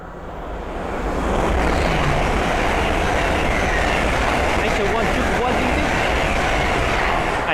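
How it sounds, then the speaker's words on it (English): A pair of Hull Trains Class 801 units passes at speed along the East Coast Main Line at Sandy: a close, loud, steady rushing roar that swells over the first second and then holds level to the end. "the next train to pass by is a pair of Hull trains 801s"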